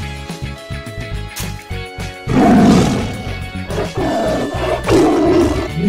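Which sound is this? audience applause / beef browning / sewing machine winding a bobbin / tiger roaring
tiger roaring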